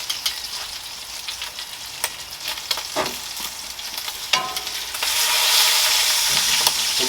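Bacon frying in a grandmother's Wagner cast iron skillet on a back porch on a rainy day, a steady close sizzle with crackles and pops that swells louder toward the end, no talking.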